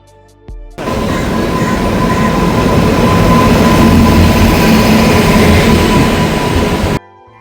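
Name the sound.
train at Koyilandy railway station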